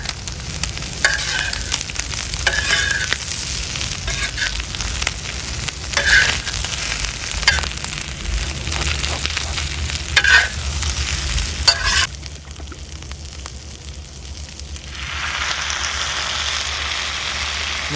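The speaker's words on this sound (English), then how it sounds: "Is that stuff supposed to be frying like that?" Steady crackling sizzle of food frying in a pan, with occasional stirring scrapes; it quiets toward the end.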